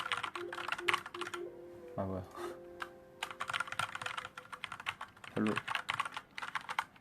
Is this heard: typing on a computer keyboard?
yes